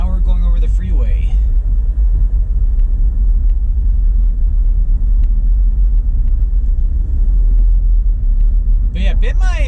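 Steady low road rumble fills a car cabin driving north on Dequindre Road as it crosses over the freeway, loud and continuous, with brief voices near the start and end.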